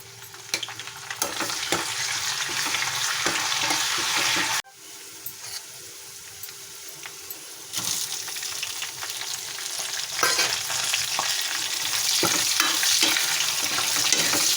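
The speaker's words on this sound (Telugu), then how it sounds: "ఉల్లిపాయలు బాగా వేయిపోవాలండి ఎర్రగా" Onions, garlic cloves and curry leaves frying in hot oil for a dal khichdi give a steady, loud sizzle with scrapes of stirring, briefly dropping quieter midway before building again; no one speaks.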